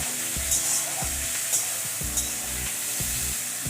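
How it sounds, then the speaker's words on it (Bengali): Pointed gourd stir-fried in a pan with spices and a splash of milk, giving a steady sizzle with repeated scraping strokes of a spatula at a close, moderate level. "দুধ দিয়ে পটলটাকে আরেকবার কষিয়ে নিচ্ছি।"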